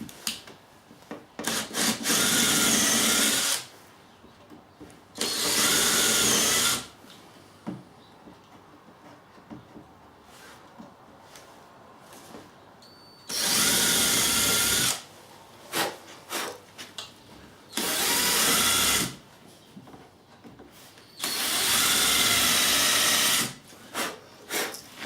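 A power drill bores into wood in five separate bursts of a few seconds each, with quiet pauses and small knocks between them.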